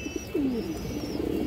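A pigeon at a pigeon sale, an old-line male, gives a close, soft throaty coo over a background of faint chirps and other bird noise.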